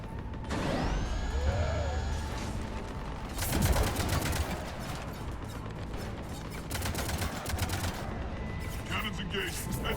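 Cannons in the Mass Effect 3 game fire in bursts of heavy, rattling shots amid mechanical clanks and creaks, with a sweeping tone at the start and bits of in-game voice mixed in.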